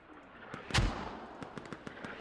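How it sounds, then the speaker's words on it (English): Mortar fire in an online military shooter match, a deep thudding impact or launch rising out of quiet background and followed by scattered fainter pops and cracks in the distance, with no talking. "FSQ's mortars is coming in just to the north of storage, so mortars is playing a big part so far."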